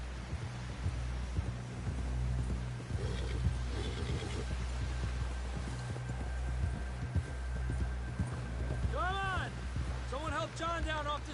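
Steady, muffled hoofbeats thud along in a rhythmic gallop in the game Red Dead Redemption 2, beneath a low hum, with voices talking and a horse whinnying near the end.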